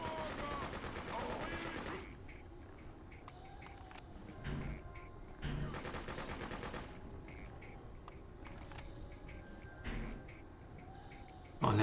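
Machine gun fire in the Freedom Fighters game: a long rattling burst at first, then scattered single shots and short bursts amid quieter battle ambience, mostly moderate with a loud blast at the end.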